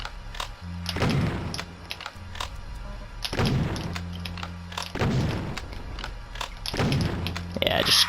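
Super shotgun blasts in the game Doom, several heavy booming shots spaced roughly a second or two apart, each followed by a mechanical reload clack, with someone talking over the action.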